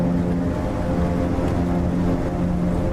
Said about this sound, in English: Those engine sounds are absolutely gorgeous.